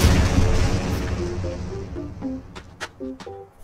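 A bomb thrown in the dice-based game Diceomancer, a heavy rumbling boom at the start that decays over a couple of seconds, followed by several short bright pops and chimes.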